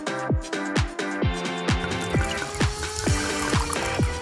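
Water trickling and pouring in a run of short, repeated bursts, close and fairly quiet, as a container is filled for pink lemonade.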